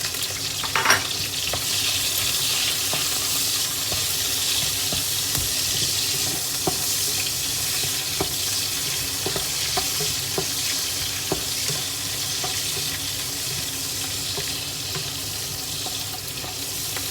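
Pork, garlic and onions fry in a pan for Filipino pancit miki guisado, giving a loud, steady sizzle and hiss throughout with occasional utensil clicks from stirring and no talking.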